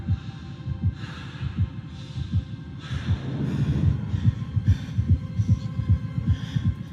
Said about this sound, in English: he hears a heartbeat